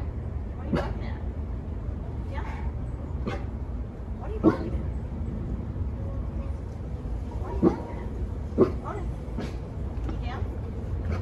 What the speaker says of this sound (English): I can hear another dog faintly barking in the distance, so maybe that's what he's barking at.